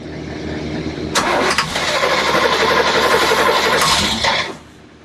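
A boat's port engine cranks briefly and then catches with a loud roar. It runs steadily for a few seconds at close range before the sound drops away.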